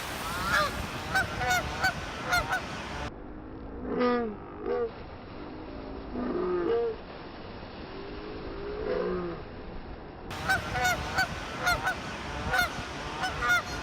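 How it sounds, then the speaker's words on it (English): Canada geese honk repeatedly as they fly in and land on the Big Thompson River, calls coming in scattered bursts at moderate distance over steady flowing water. "a couple of geese decided it was safe enough to fly on in with us and chose the Big Thompson River water as their runway"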